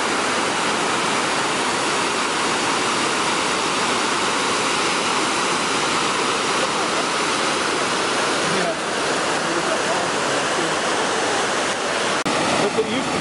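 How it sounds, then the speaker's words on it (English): Steady, loud rush of creek water flowing below a dam spillway at Hetch Hetchy, a continuous broadband roar that holds for the whole stretch with no pauses. "There's a creek down there."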